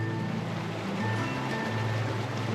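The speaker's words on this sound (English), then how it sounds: "the whole village is filled with sounds of water" Water runs through canals in a traditional Japanese village, a steady rushing and gurgling flow that holds at an even level from start to end with no voices over it.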